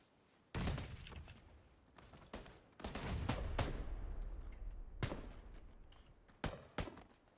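Gunfire from an SKS rifle in the video game PUBG, several sharp single shots spread irregularly over a rumbling background, with a short cluster of shots near the end.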